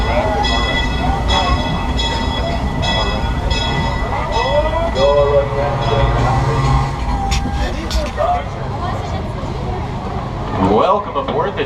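Disneyland Railroad train on the Grand Circle Tour, rumbling and clattering steadily along the track with wheel squeals, while people talk over it throughout.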